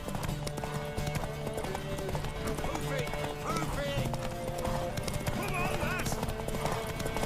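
Horse hooves clip-clop steadily beneath a busy game scene in The Witcher 3, with a whinny breaking through amid music and voices talking throughout.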